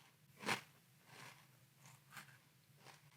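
Dry Catalina Crunch pumpkin spice cereal is chewed in a few crisp bites, with one sharp crunch followed by softer, irregular crunching and chewing at close range in a quiet room.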